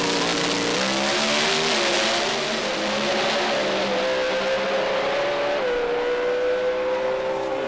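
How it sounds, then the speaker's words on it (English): Drag racing cars sit on the start line at Adelaide International Raceway during a Group 1 grand final, their engines revving loudly and continuously, a dense roar with shifting pitch that fills the whole stretch. "Both engines are going to start getting hot."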